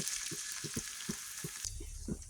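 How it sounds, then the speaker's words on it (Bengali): Onions frying in a cup of oil for chicken biryani, with a faint steady sizzle and soft rhythmic scrapes from a spoon stirring the pan at regular intervals. "পেঁয়াজটা আমি একদম লাল লাল করে ভেজে নেব না হালকা একটু ভেজে নেওয়ার পর"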